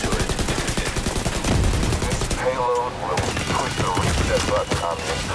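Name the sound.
assault turret gunfire in video game The Division 2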